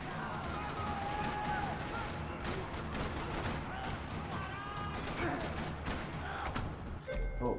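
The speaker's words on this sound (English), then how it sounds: "Another parking lot rattling with gunfire." Dense gunfire in a parking lot in the video game Max Payne 3, rapid rattling shots and thuds going on continuously, with people talking over it.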